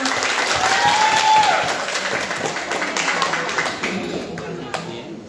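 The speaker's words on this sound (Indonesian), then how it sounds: "Mari kita beri tepuk tangan." Audience applause at a school quiz competition, a Grade 9 final at a state junior high school, with steady clapping from a hall crowd that fades gradually over about five seconds, amid some background voices.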